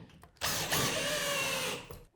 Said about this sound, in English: You use the drill to put in the bolts